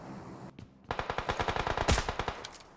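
Rapid automatic gunfire in the PUBG Mobile video game, a dense burst of roughly fifteen sharp, loud shots in quick succession after a brief pause, with no speech.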